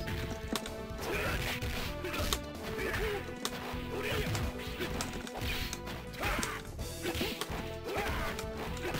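Rapid punches and kicks land in a Garou: Mark of the Wolves fighting game match, with sharp smacks and crashes in quick succession over a constant backdrop of game music and effects.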